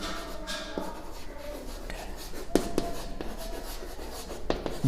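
Pen or chalk writing on a board during a mathematics lesson, with soft scratchy strokes and occasional taps in a quiet room, no talking.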